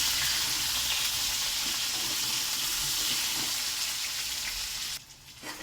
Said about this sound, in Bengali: পটলে আমি পরিমাণে একটু হলুদ দেবো, দিয়ে লাল লাল করে ভাজবো।